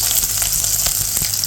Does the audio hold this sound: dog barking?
no